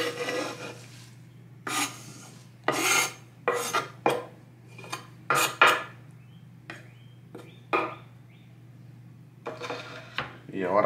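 Ingredients for a Mexican shrimp cocktail being put onto a kitchen tray: scraping, rubbing and clattering of dishes and utensils in short separate bursts, close and moderately loud over a steady low hum.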